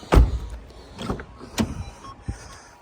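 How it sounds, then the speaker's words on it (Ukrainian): Power windows on a 2012 Renault Megane 3 whir in several short motor bursts, close up inside the car, each with a brief whine and a soft thump as a window stops. "Склопідйомнички"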